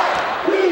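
Indoor college basketball crowd roaring at an Indiana versus Notre Dame game, a dense sustained wall of cheering and shouting with a rising yell near the end.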